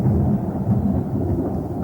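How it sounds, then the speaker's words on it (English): Low, continuous thunder rumble under a grey, clouding sky, a steady broad roar filling the short stretch with no speech and a faint hiss of rain behind it. "I think I can hear thunder. Listen, can you hear it too?"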